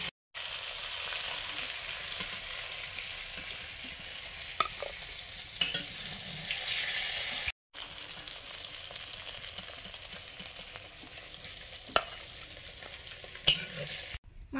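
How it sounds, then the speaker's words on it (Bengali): Malabar spinach stems fry with salt in a pan, making a soft, continuous sizzle with a few brief clicks and stirring taps and no speech. "পুঁই ডাঁটাগুলো একটু নুন দিয়ে ভেজে নেব।"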